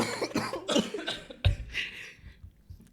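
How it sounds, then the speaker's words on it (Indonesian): A few harsh coughs in quick bursts, one sharper and louder than the rest, close to the listener with faint voice sounds around them during an Indonesian online conversation. "Aduh batuk."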